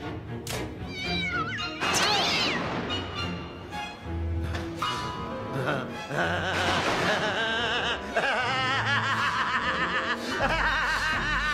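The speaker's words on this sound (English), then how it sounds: "Even drugged, the cat went straight for its master." An animated cat meows and caterwauls in drawn-out, wavering yowls over a busy cartoon soundtrack, mixed with snickering laughter and music for around eleven seconds.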